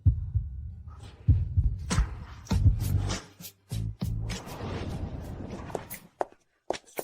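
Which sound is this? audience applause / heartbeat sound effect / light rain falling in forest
heartbeat sound effect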